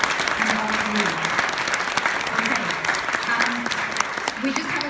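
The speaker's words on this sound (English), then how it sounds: "So round of applause, please, for everybody, the cast of Charles and all of you." An audience applauds the cast of Charles with sustained, dense clapping from a crowd while a voice talks over it.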